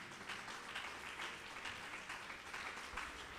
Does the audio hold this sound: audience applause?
yes